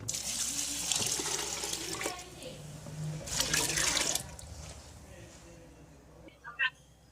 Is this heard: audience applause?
no